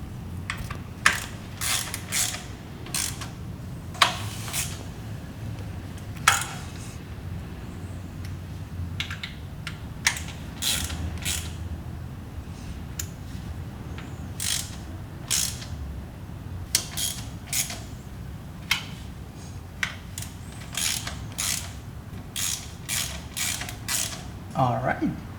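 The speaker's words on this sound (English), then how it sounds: "I'm just gonna go around, make sure everything's tight." Ratchet clicking repeatedly while snugging low-torque transmission bolts on a Porsche 981 Cayman/Boxster S, short bursts of close, crisp pawl clicks spread across the clip with pauses between, over a low background hum.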